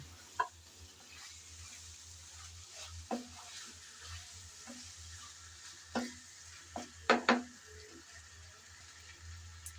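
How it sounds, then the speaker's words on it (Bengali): Chicken, fried beforehand, is being stirred and sautéed in a pan: a low, quiet sizzle runs underneath while scattered scrapes and knocks from the spatula come sporadically, with a few sharper clatters near the end. No voices. "চিকেন দিয়ে আবারও একটু নেড়ে চেড়ে ভালোভাবে কষিয়ে নেব"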